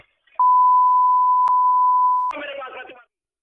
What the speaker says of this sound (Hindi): जगह जगह हमें बीप का इस्तेमाल करना पड़ा था